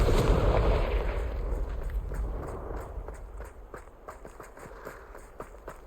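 Fire spell Confringo cast in Hogwarts Legacy gives a loud, rushing blast that fades over a few seconds, then a string of sharp, crackling hits and thuds trails off at moderate level.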